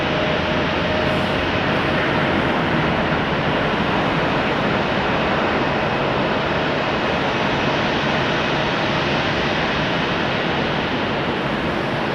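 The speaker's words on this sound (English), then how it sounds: "American Airlines 777 coming in from London" American Airlines Boeing 777 arriving from London at Raleigh-Durham airport, a loud, steady broadband jet roar that holds without letup throughout, close and continuous, with no voices.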